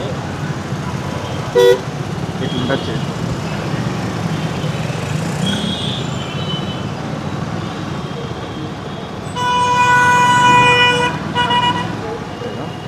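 Riding an Aprilia RS 457 motorcycle through city traffic brings a constant engine and road roar, with a short horn toot early and a longer burst of loud honking near the end while a rider talks.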